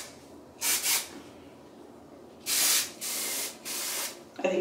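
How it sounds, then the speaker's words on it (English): Several short bursts of Marc Anthony aerosol texture spray hiss onto hair, one quick double puff followed by three longer sprays, close to the microphone with no talking. "I am just gonna add some texture spray."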